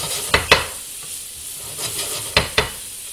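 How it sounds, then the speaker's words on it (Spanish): Onion and garlic stirred in a frying pan over a steady sizzle, with a few sharp scraping strokes from the utensil in two short pairs, close and alone. "La cebolla. Y el ajo. Y lo movemos un poquito."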